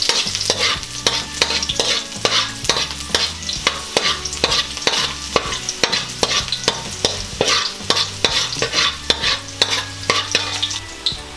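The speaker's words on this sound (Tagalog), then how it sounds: "Ngayon po na mainit na ang ating mantika ay igigisa na natin itong ating bawang." Garlic sautéing in hot cooking oil in a frying pan: a loud, steady sizzle punctuated by rapid, regular scraping strokes of a spatula against the pan, close up and with no speech.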